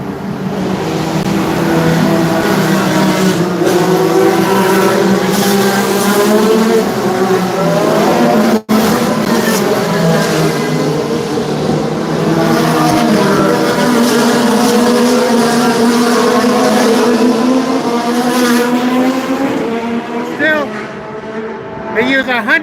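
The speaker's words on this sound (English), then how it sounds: "The car's going by." An IndyCar race car running on 110-octane fuel at the Honda Indy Toronto street circuit gives a loud, sustained engine roar, its whining pitch rising and falling steadily for about twenty seconds before easing off at the end.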